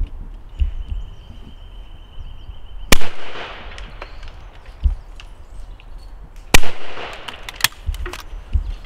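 A Miroku MK38 Sporter shotgun fires Ely Superb cartridges at clay targets with two loud, sharp blasts a few seconds apart. Each report is sudden and short, and a softer thump falls between them.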